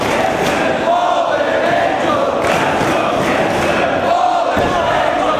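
Arena crowd at a professional wrestling event, a dense steady roar of cheering and shouting from fans split between two technical wrestlers, loud and continuous throughout with occasional thuds.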